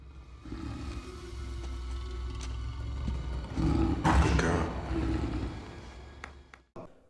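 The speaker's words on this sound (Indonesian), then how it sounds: "Dan anehnya, seekor macan Sumatera pun nampak jinak dengan Phantom." A deep, rumbling Sumatran tiger roar swells in the middle and holds for a few seconds over a steady low background hum, then cuts off abruptly.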